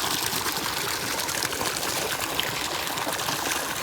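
Spring water trickling from a spout at a pond near a Mahadev shrine, a steady, close splash and dribble that keeps going without any break or talk.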